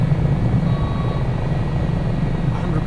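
A steady rotor and turbine drone from an HH-65 Dolphin Coast Guard helicopter flying near Valdez, Alaska in MSFS 2024, loud and continuous with no talk.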